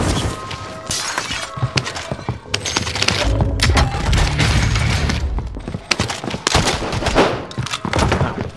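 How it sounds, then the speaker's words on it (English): A video-game gun fires in loud, rapid bursts of sharp shots, mixed with shattering impacts and thuds, in near-constant waves of heavy gunfire. "This gun will only shoot so fast."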